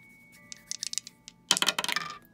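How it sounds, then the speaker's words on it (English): Dice tumble and clatter in a board game, first as scattered light clicks, then a louder burst of rattling hits around the middle that trails off into quick small knocks. "Go ahead and pick up the dice and go ahead and roll it."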